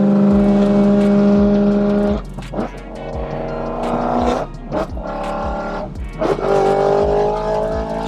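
A 2008 BMW E92 M3 pulling hard through the gears, its engine note climbing steadily, dropping at each shift near two, three and six seconds, then rising again, loud and close with brief chirps between gears.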